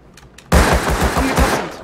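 AK rifle gunfire in the survival game Rust, a sudden loud burst of rapid automatic shots close by that starts abruptly and rattles on without a break to the end.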